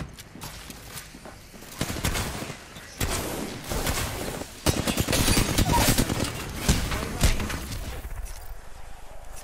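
Gunfire in the Apex Legends video game: scattered loud shots and bursts layered over busy game noise and movement sounds, with intense sustained firing toward the middle, heard up close.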